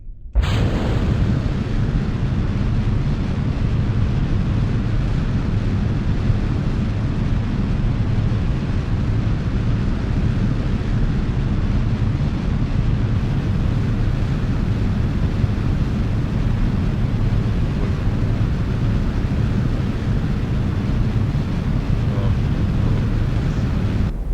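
Rocket engine roaring through a night launch in Kerbal Space Program, a loud, steady, dense rumble held continuously throughout with no breaks.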